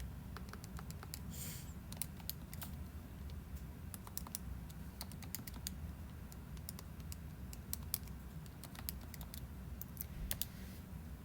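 Keys on a graphing calculator keypad being pressed, a quick irregular series of soft close clicks over a faint steady hum.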